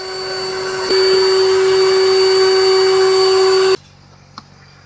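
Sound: vacuum sucking leaf debris from Chevrolet Cruze

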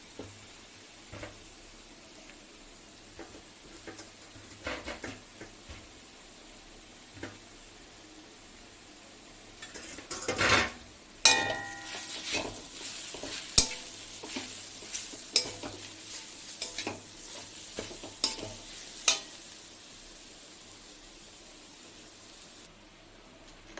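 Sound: frying peas with mashed boiled potato in a pan

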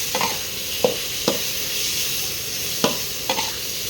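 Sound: minced pork stir-frying over high heat in a wok

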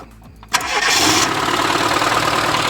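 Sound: car engine starting after carburetor replacement

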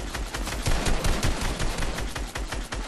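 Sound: gunfire in the video game Fortnite

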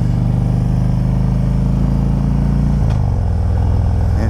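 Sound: Harley Davidson Street Glide motorcycle riding

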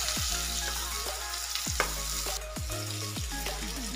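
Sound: onions and spices sautéing in a pan

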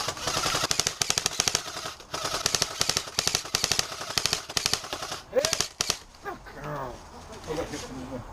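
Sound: airsoft sniper gunfire

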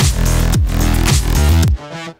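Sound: drums in full mix before Fold plugin

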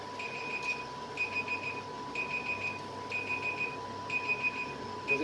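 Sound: kitchen timer alarm ringing while cooking

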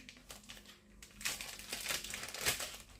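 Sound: plastic bag being handled and folded

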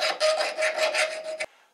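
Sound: filing off milling burr with a file

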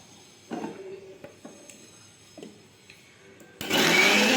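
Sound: mixer grinder crushing tomato, garlic, chili for Schezwan chutney

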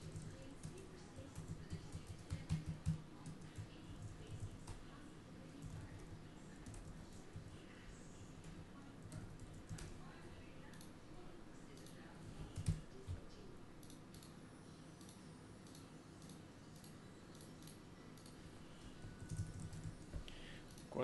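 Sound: typing on a computer keyboard

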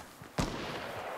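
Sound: gunshots in a video game

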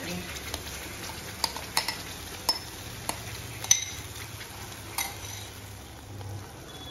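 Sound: stirring gravy into paneer butter masala in a pan

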